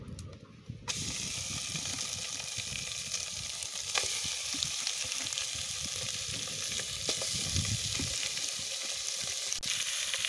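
Pork pieces hitting a dry, hot pan with no oil or mustard seeds, then frying in a steady, loud, close sizzle that keeps up without a break.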